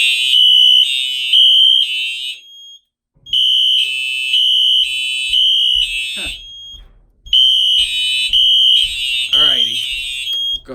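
A fire alarm triggered from a manual pull station during a system test sounds in repeated loud bursts of shrill pulsing horn tones, with brief gaps between cycles and people talking faintly underneath.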